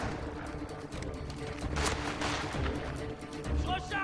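Gunfire in Mafia: The Old Country, a dense, continuous barrage of shots and heavy booms close by, with shouted voices mixed in through the firefight.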